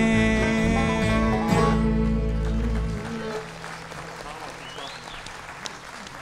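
Bluegrass band members clapping for themselves as a song ends, loud music and a held final chord giving way to a short, lighter patter of hand claps.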